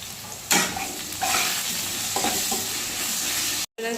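Potato pieces sizzle steadily in a pan while being stirred, with several distinct scraping strokes over the frying hiss and a sudden short silence near the end.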